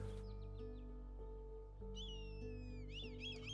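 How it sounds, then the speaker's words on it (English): A red kite's call in the Wingspan bird board video game: thin whistling, wavering mewing cries in two short bursts over a steady, soft musical drone. "that does sound just like a red kite"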